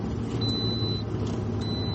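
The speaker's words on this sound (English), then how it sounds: "seatbelt alarm for the passenger seat" Passenger seatbelt warning chime in a car, two thin high electronic tones sounding over steady road and engine rumble from inside the moving vehicle.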